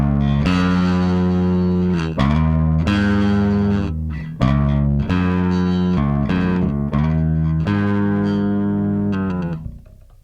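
A bass guitar runs through a Fender Full Moon Distortion pedal, playing loud, gritty sustained notes with strong harmonics. Several held notes ring in turn, then the last one fades out, with no talking.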